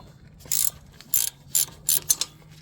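A 9/16 wrench ratchets on engine bolts of a Wacker roller during engine replacement, five short bursts of metallic clicking close by against a low background hum, no speech.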